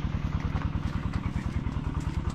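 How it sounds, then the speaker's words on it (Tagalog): A small engine runs steadily nearby, its rapid, even chugging pulses loud and continuous throughout. "mandar na yung makina."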